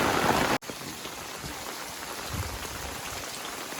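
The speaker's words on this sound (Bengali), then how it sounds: "বৃষ্টি হচ্ছে হেভি জোরে।" Heavy rain pours down on the day after Cyclone Dana, a steady close hiss of drops on surfaces with a brief dropout near the start.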